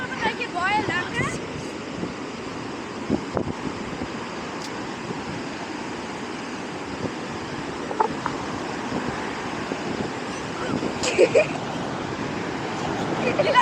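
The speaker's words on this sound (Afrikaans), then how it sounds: "Hierdie wind is net nog 'n bietjie baie lekker." Strong wind gusting at the seaside makes a steady roar of buffeting and rumble against the microphone, with surf mixed in. Voices talk and laugh faintly underneath at times.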